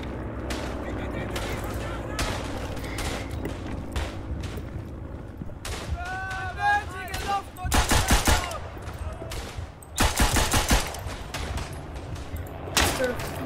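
Rifle and machine-gun fire in the First World War video game Verdun, with loud bursts of rapid shots near the middle and end over a constant battlefield rumble, and a voice talking at times.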